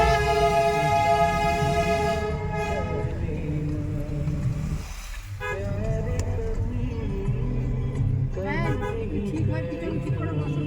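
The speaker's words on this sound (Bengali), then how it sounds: "টয় ট্রেন যাচ্ছে।" The Darjeeling toy train passes close by in a hill town, sounding its horn in long, loud, drawn-out blasts over rumbling wheels and street noise, with people talking nearby.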